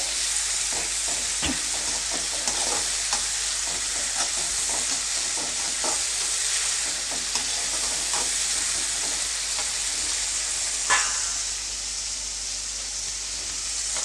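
A tempering of spices with turmeric sizzles and fries in a pan on the stove for thin poha, a continuous close hiss broken by frequent spoon stirs and scrapes, with one sharper clatter near the end.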